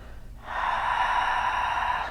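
One long, deep inhalation by a person during yoga sun salutations, an airy breath sound held for about a second and a half, close and clear.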